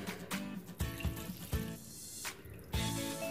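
Water drips and splashes as soaked bread slices are squeezed out by hand over a bowl, in a series of short close wet bursts with quiet pauses between.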